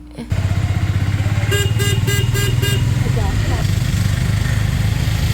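An auto rickshaw packed with ten to twelve passengers sits in Tamil Nadu street traffic, its engine droning steadily while a run of five quick horn toots sounds midway, followed by a brief squeal.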